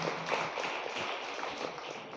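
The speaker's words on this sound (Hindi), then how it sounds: "जोर से ताली बजा प्रभु की महिमा करें" A church congregation claps loudly in praise of the Lord, a dense, steady wash of many hands applauding together throughout, with no voices standing out.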